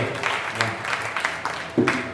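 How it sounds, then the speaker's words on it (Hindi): An audience at a Hindi poetry gathering (kavi sammelan) claps in scattered bursts, mixed with a voice talking over the applause. "आप लोग जरा एक बार उनके लिए तालियां बजा दीजिए।"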